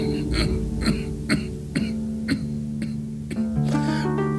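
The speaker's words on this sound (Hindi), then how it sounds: "हाँ, ये खांसी।" A man in a 1989 Hindi film scene coughs and clears his throat in a rhythmic series of about nine close, harsh bursts, ending in a drawn-out, voiced throaty sound.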